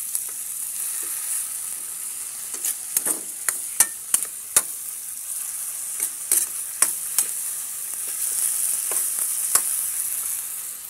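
Bagoong alamang (shrimp paste) frying in a pan with steady hissing sizzle, punctuated by sharp scraping and clacking of a utensil stirring at irregular intervals, close up with no talk.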